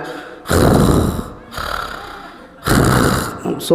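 A voice imitates snoring with three long, rasping, snorting breaths separated by brief pauses, loud and close.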